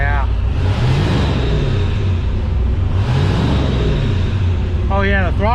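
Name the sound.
car engine revving, testing throttle response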